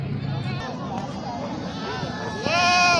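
Goats bleating at a busy livestock market, wavering calls rising over a steady crowd babble, with one louder, closer bleat near the end and people talking throughout.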